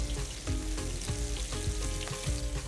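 Beef tongue steak fries in a pan, giving a steady, close sizzle with soft popping and shifting under it. No talking is heard.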